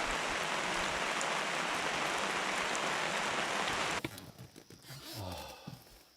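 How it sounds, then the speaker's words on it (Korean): Rain falls steadily and densely at night beside a stream during a fishing session in a thunderstorm, then cuts off abruptly after about four seconds, leaving quieter low rustling. "비가 오는 와중에"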